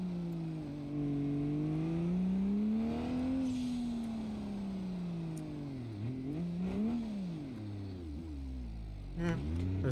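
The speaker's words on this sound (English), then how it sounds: "Those turbo noises are just as nice." Car engine in the BeamNG Drive driving game, revving up and down with a sustained turbo whine that rises and falls in pitch over about ten seconds, loud and up close.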